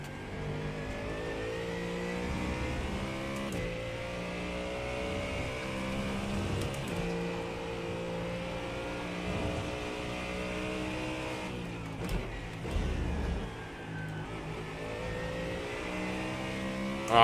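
A Mustang GT3 race car in the iRacing simulator, its engine climbing and dropping through gear changes on a lap, steady close-up drone rising and falling for the whole stretch without talk.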